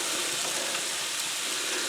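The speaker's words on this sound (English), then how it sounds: "She's starting to sizzle." Beef for Mongolian beef hits a hot pan and sizzles steadily, a loud, close, continuous hiss of frying with no talk.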